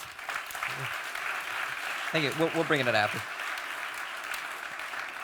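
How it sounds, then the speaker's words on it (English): Audience applause at a festival stage session, moderate clapping that runs throughout while someone speaks briefly over it in the middle. "Ladies and gentlemen, a big round of applause."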